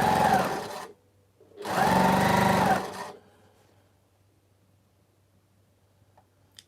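A sewing machine stitches fabric for a Falling Charms quilt pattern in two quick, busy bursts, the second slightly longer, followed by near-silence with a faint hum.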